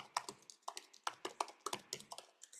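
Quiet, rapid keystrokes clatter on a computer keyboard in an irregular typing rhythm, each tap short and sharp, with no one speaking.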